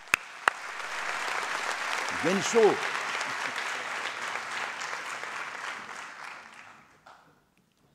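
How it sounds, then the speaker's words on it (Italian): Crowd applause for a deputy mayor at a student day event, a broad steady clapping that swells, runs for several seconds and then stops abruptly, with a brief spoken call partway through. "Un applauso al vice sindaco di Varallo Sesia"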